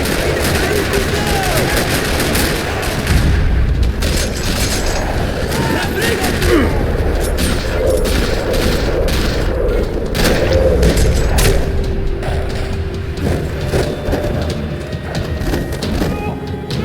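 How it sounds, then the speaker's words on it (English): Gunfire rattles across a parking lot in the Max Payne 3 video game, with heavy booms and bursts of shots layered over a dense, steady roar of action that runs for the whole stretch, along with some talk. "Another parking lot rattling with gunfire"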